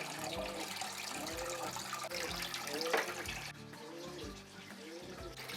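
Old aquarium tank water poured from a large bowl into the open canister of a Fluval FX4 filter, a steady, fairly loud splashing gush that runs continuously and eases slightly toward the end.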